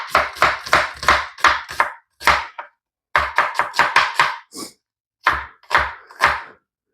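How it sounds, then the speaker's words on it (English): A knife chops onions on a board in quick rhythmic bursts of crisp, close taps, grouped into runs separated by short pauses, with no talking. "I'm gonna go ahead and start chopping up some flavor, okay? Going in with some onions."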